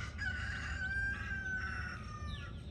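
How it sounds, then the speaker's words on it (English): A rooster crows near cabins at an RV camp in Columbus, Texas, giving one long, clear cock-a-doodle-doo at moderate distance, with faint rural background noise and no talking. "Good morning, Mr. Rooster. That is our morning wake-up call"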